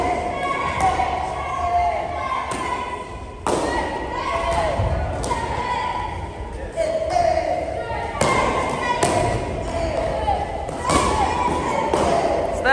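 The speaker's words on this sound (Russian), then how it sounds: "это удары ногами по лапам на выброс" Taekwondo kicks smack against handheld focus pads at a training camp, sharp slaps landing every second or so in a large echoing hall, under a coach's shouted commands and counting.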